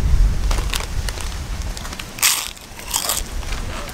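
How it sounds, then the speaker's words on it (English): Close, loud crunching of thick potato chips, a few sharp crisp bites and chewing, with no talking. "Can you hear the crunch?"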